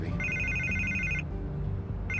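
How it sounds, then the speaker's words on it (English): A telephone rings insistently in a Batman Telltale Series game scene, a bright electronic trill that repeats in bursts over a low background score, loud and near with no voices. "I can't get the phone to stop ringing"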